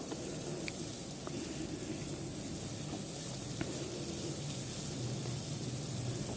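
Potol curry with rice and a spoonful of sugar sautéing in a pan, a soft steady sizzle and hiss close by with faint scattered ticks, no talking.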